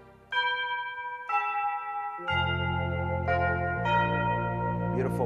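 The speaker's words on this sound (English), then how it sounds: "Beautiful sound of the chimes." A chimes preset on a Lowrey Encore home organ rings out in a series of bell-like struck tones, each new chord entering in steps over a sustained low organ bass, loud and close with no talk.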